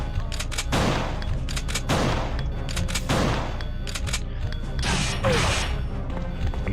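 Repeated shotgun blasts in the PS1 video game Resident Evil 2, fired at a steady pace of several shots over a few seconds, loud and punchy with short decays over constant game background noise.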